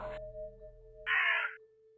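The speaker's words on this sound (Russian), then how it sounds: "И, конечно же, ворон." A raven caws once in the puzzle game Rusty Lake Roots, a single harsh, loud call rising after a low tone, with a steady hum running underneath and no talking.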